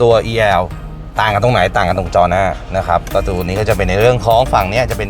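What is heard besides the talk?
No everyday noises stand out.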